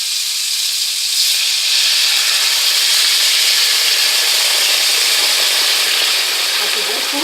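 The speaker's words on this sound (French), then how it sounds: "On va rajouter un peu de vin blanc." White wine is poured onto sausage roasting in a pan and sizzles loudly, a close, continuous hiss of steam and frying that holds steady throughout.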